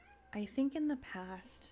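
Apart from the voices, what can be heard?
cat meowing in the background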